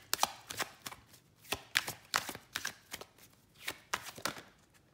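Oracle cards being shuffled by hand in a series of quick riffling bursts, close and soft with brief pauses between them.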